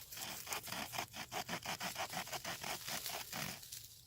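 The small saw blade of a Victorinox Farmer pocketknife cuts a notch in a wooden hearthboard, about sixteen quick rasping back-and-forth strokes in a steady rhythm, close up and without speech.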